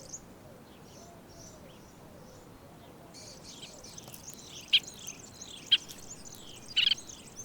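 Nervous steppe birds call in open Sicilian farmland, giving soft repeated chirps and warbling notes at moderate distance, with a few sharper, louder calls late on over steady insect buzz.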